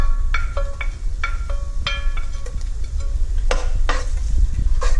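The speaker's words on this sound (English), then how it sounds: "First we fry the garlic." Garlic sizzles in a hot pan for Malaysian sweet leaves with anchovies, with a spatula clinking and scraping against the metal in quick strokes over a loud, constant frying hiss.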